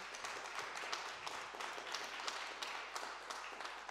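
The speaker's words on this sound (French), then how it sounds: "Que vous demandez d'applaudir les Kumokau" Audience applause at the D'ÒC Show stage performance, a steady, fairly faint patter of many hands clapping continuously throughout.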